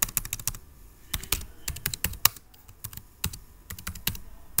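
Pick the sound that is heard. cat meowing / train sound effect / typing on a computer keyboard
typing on a computer keyboard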